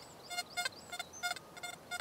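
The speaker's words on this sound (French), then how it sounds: "Ça, c'est le bruit du sol dû à un réglage incorrect" A Deus XP metal detector gives off ground noise from a ground setting set too low: faint, quick, irregular electronic chirps and beeps over low background hiss.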